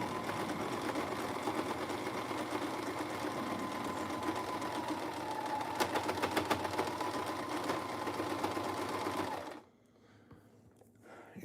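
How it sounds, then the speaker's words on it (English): Sewing machine running steadily at close range, a continuous whirring hum with an intermittent light ticking mixed in, stopping abruptly near the end. "If any of you are sewing people, you can hear it like making that little tick, tick, tick, tick every once in a while."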